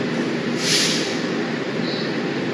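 Gumarang business class passenger train standing at a station platform, a steady broad rumble and hiss of the train with a brief brighter swell partway through, no talking.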